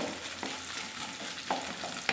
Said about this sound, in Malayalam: ഞാനൊരു കാൽമുറി തേങ്ങ ഇത് ഇച്ചിരി കനം കുറച്ച് കൊത്തി വെച്ചിട്ടുണ്ട് അതൊന്ന് വറുത്ത്